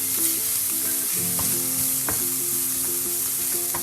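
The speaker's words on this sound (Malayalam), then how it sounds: "ഇത്ര ഇട്ടിട്ട് ഇത് നന്നായിട്ടൊന്ന് വഴറ്റിയെടുക്കാം." Green chilli, ginger and garlic sizzle steadily in hot oil in a pan for a samosa filling, with a few soft clinks and scrapes of stirring, close and without voices.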